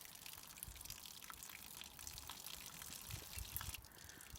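Fresh water drains steadily from a travel trailer's tanks in a continuous soft hissing pour with faint dripping, low in level and uninterrupted.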